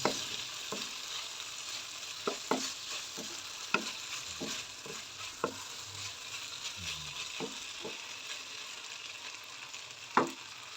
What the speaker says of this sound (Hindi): अब इसे अच्छे से मिक्स करेंगे, 1 मिनट देंगे इसे।